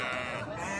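Ewes bleating in a crowded sheep pen at the Kirkuk livestock market, several overlapping calls forming a steady, dense chorus close by with no talk.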